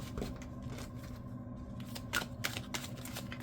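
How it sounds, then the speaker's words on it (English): A deck of tarot cards is shuffled by hand in a soft, crisp riffle of papery flicks and taps, close and quiet with a few sharper snaps near the end and no voice over it. "I'm shuffling here in case we get the same card again"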